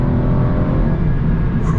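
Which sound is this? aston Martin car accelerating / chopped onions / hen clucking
aston Martin car accelerating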